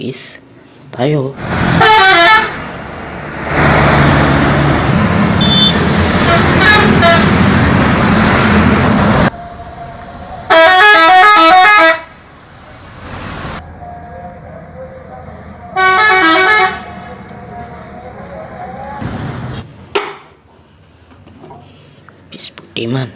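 A toy Tayo bus honks its horn in repeated loud tooting bursts, close by, with a voice talking and whispering between the honks.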